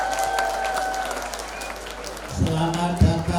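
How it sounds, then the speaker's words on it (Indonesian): An audience at a local government event in Nganjuk applauds the Central Java governor, a dense patter of many hands, with a voice speaking over the clapping toward the end. "Tepuk tangan dulu untuk Pak Ganjar."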